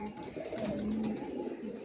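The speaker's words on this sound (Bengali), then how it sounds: "হাওড়া সাকরাইল থেকে কালচিরা টাইপের পায়রা" Giribaz pigeons coo in a soft, continuous low warble, close by and moderately loud, with several overlapping rolling notes over under two seconds.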